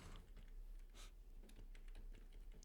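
Quiet close clicks of a computer keyboard as a C program is typed, with a few light key taps spread across a moment and no voices.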